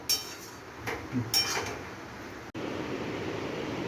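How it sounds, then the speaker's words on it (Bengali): Fish with garlic and green chillies being stirred in a pan, a few sharp metallic clinks and scrapes of a utensil against the pan over a low background hum, close and fairly quiet. "রসুন কাঁচা লঙ্কা দিয়ে এই যে নাড়াচাড়া করছি"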